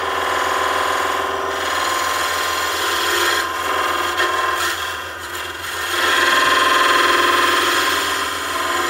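A roughing gouge cuts spinning wood on a lathe while coves are being turned, giving a continuous loud scraping, rasping hiss that wavers slightly, dips briefly midway, then swells again, with no talk.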